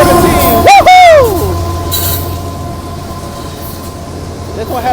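Union Pacific eastbound intermodal stack train with a DPU helper passing Richmond station; loud squealing wheel screeches sweep near the start, then fade to a low rumbling, rolling drone.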